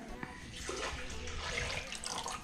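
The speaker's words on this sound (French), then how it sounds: "tu vas mettre un peu d'eau" Water pours steadily into a cooking pot of Niçoise stuffed cabbage, a close, continuous splashing stream that lasts a couple of seconds, with faint background voices.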